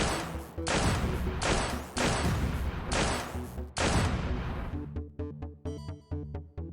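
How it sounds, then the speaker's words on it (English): Shotgun firing slugs in a video game, five heavy, evenly spaced booms, each with a long ringing tail, followed by several sharper, quieter clicks and impacts. "Apparently, this shotgun fires slugs."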